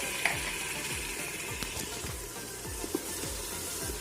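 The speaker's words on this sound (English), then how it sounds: "Mix them really well." A spoon works ground mint paste into mushy tomatoes in a pan for pudina pulao, giving repeated scraping, clicking strokes in a steady rhythm over a continuous soft sizzle, close up, with no talking.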